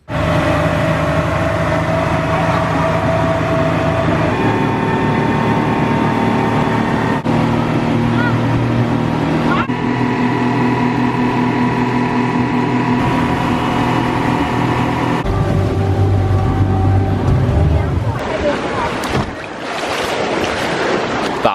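A tour boat motor in the Phi Phi Islands, Thailand, drones steadily and loudly throughout, with wind and water noise around it and voices talking over the engine at times.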